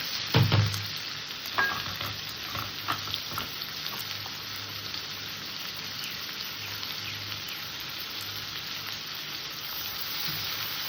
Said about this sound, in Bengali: ফোড়নটা ভাজা হয়ে গেছে দিয়ে দিলাম পেঁয়াজ কুচি